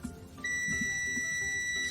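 A digital multimeter on its continuity setting gives one steady, sustained electronic beep once the probes touch a conducting cable, a clean high tone that holds for well over a second after a brief soft clatter.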